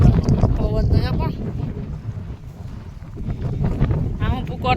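Wind gusts across an open farm field, a loud rumbling roar that buffets the microphone beneath people talking nearby.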